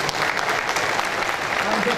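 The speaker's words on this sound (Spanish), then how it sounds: "Um aplauso, por favor." A room of people at an agricultural trade show claps enthusiastically, a dense crackle of applause sustained for a couple of seconds with a few voices mixed in.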